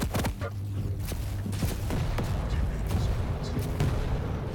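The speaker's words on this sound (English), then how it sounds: "Nail gun spam can be really good." Rapid nail gun fire in a Quake 1v1 deathmatch, a dense stream of thumping, clattering shots running steadily under other game noise and commentary.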